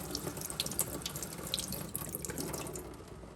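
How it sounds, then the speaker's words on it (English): Tap water runs steadily over antique jewelry being rinsed at a sink, a close, continuous splashing rush with small droplet spatters throughout. "I'm gonna rinse that off and see how that looks."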